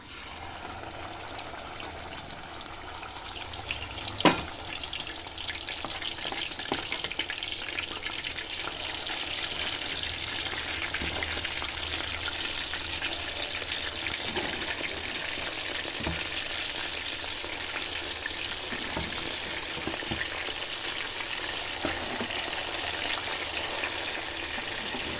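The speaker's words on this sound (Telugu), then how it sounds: "పల్లీల ఆయిల్ తీసుకుని కళాయి పెట్టుకుని దాన్ని హీట్ చేసుకున్న తర్వాత మనం ఇప్పుడు ఫ్రై చేసుకుందాము" Koramenu fish pieces frying in hot peanut oil in a kadai, a steady dense sizzle and bubbling crackle that runs continuously, with a small clink near the start.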